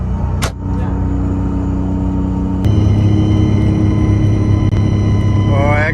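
Steady droning rumble of a 4106 bus V730 engine with the engine closet open, loud and continuous, joined partway through by a louder low hum and rising tonal whine near the end; a voice speaks briefly early on.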